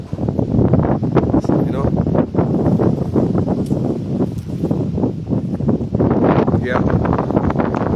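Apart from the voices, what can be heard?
strong wind during a cold front in Jamaica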